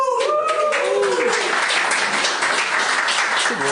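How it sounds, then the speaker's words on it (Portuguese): Loud, steady audience applause fills the room throughout, dense and close, with a voice briefly audible over it at the start. "eles só estão a bater palmas para ver se eu me vou embora mais depressa"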